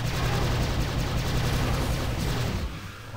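Sustained gunfire from a weapon in the 2006 first-person shooter Prey, a loud continuous burst of rapid shots with heavy low rumble that eases off near the end.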